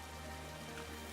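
Steady, soft rainfall from the Pokemon Sword video game, a quiet wash of drops falling continuously on its own with no talking.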